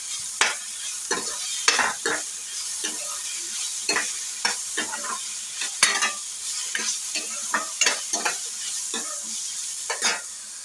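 Peeled ridge gourd sizzles steadily in a hot pan, with frequent sharp scrapes and clacks of stirring spaced irregularly throughout, close and moderately loud with no talking.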